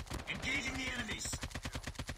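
Gunfire in the mobile game Call of Duty Mobile comes as a rapid automatic burst of evenly spaced shots, dense and clipped, following a brief tonal sweep at the start.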